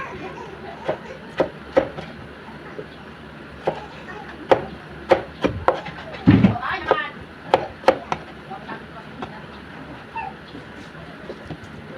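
A knife chops a tomato on a cutting board, with sharp, irregular taps close by, some quick bursts, and a brief louder clatter in the middle.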